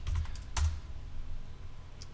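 Typing on a computer keyboard, a couple of close clicky bursts near the start and middle, then fainter taps over a low background hum, with no talking.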